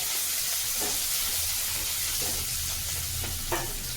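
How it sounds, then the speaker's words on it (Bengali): A spoon stirs and scrapes through a vegetable curry of green banana, potato and long beans simmering in a pan, with a steady close sizzle and a few soft knocks. "নেড়ে চেড়ে নেব।"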